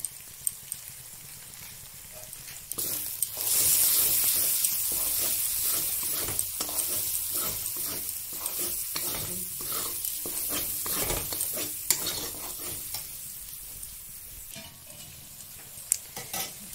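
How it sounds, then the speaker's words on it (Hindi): Spice masala of turmeric, red chilli and Kashmiri chilli frying in a pan for Bengali chorchori, sizzling steadily while being stirred with repeated scraping strokes, close and fairly loud. "मसाला को भूज रहे हैं"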